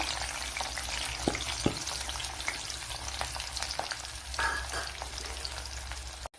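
Fenugreek, garlic, green chili and ginger frying in coconut oil, a steady close sizzle with occasional light stirring clicks and a few brief pops, no talk.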